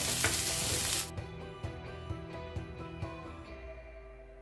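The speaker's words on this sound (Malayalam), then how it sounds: "ഇനി സവോള നന്നായിട്ടൊന്ന് വഴറ്റി വരാനായിട്ട് കുറച്ച് ഉപ്പിട്ടിട്ട് ഇളക്കി കൊടുക്കാം." Chopped onions hit a hot pan for a Malabar kilikood snack, bursting into a loud sizzle for about a second, then quieter frying under regular clicks of a spoon stirring them with salt.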